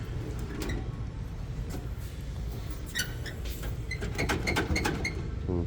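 A large steel US General 44-inch tool box is shaken hard, rattling and creaking with metallic clanks and drawer jolts over a steady background rumble, close and without speech.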